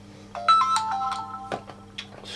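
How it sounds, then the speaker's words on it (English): A mobile phone ringtone plays a short melodic electronic tune close by and clearly, followed by a few softer tones, in a workshop where a radio-control car is being fitted with a brushless motor. "excuse my phone"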